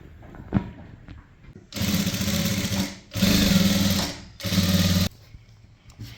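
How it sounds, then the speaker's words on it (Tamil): A sewing machine stitches a kurti top in three sustained bursts of whirring, each lasting about a second or more, with brief pauses and quiet handling noises between them. "இப்போ இதை தைக்கலாம்"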